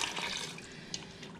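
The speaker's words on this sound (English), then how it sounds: "And then we're gonna add water." Water poured into an Instant Pot over dry pasta, a steady splashing trickle at low level that continues without a break and without voices.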